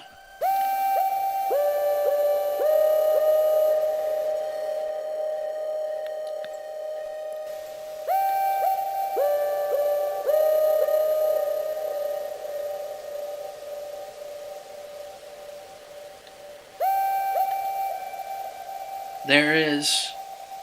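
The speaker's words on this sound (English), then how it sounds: "there is more distortion. Like more stuff is getting distorted because of this routine." Heavily distorted sustained synth tones, gritty and buzzy, stepping between a few pitches in long held phrases, with a short warbling glitch near the end.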